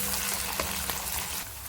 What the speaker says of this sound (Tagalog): We'll add tomato puree. We'll fry it for 2 minutes.